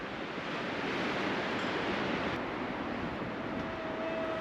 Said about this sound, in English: And as you can see, it is a little windy.